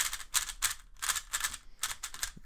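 Gritty, sandy rapid clicking and scraping comes in quick bursts with short pauses, a new speed cube being twisted close up.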